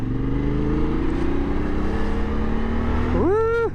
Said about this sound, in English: just changing down a gear